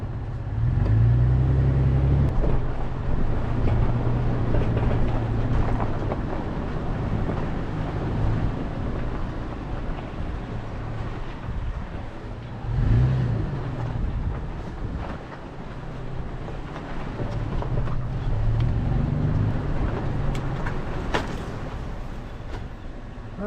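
A Toyota FJ Cruiser crawls off-road in two-wheel drive through Upper Muley Twist Canyon, its engine a continuous low rumble that rises and falls in revs, with rattles and crunching from the rough track.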